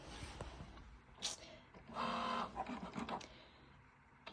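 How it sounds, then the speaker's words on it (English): A Cricut Joy Xtra cutting machine cuts iron-on vinyl with quiet whirring motor bursts and short carriage movements, faint and close. "And the machine's going to cut those welded hearts for us."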